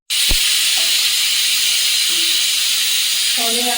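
A new pressure cooker vents steam in a home kitchen, producing one loud, continuous hiss that starts abruptly and holds without pause to the end, with a faint voice underneath near the close.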